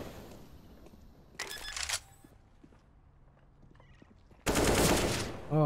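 Counter-Strike: Global Offensive gunfire comes in two sharp bursts of rapid automatic shots, fairly close and loud, separated by a quieter stretch of faint game noise.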